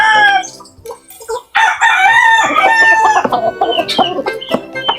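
Chickens cluck and a rooster crows loudly and close, with chicks in the flock on a backyard farm, the calls overlapping in busy bursts throughout.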